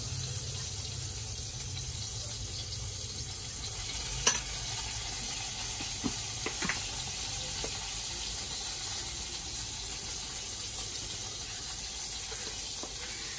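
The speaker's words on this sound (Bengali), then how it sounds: "প্রথমেই আমি মাছগুলো ভেজে নিই" Steady hiss of fish frying in a hot pan, a constant sizzle with a few light clinks and scrapes, no talking.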